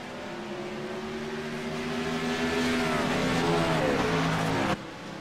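Race cars roar past the start-finish line near the end of a short oval race, a loud, steady engine drone that swells slightly as they pass close by, then drops off abruptly.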